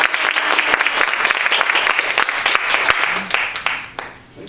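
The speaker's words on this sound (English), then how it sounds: "So please, everybody, invite, with a warm round of applause, Dr. Minkoff." A crowd at a raw vegan group gathering claps steadily in warm applause welcoming Dr. Minkoff to the stage, dense and continuous before tapering off near the end.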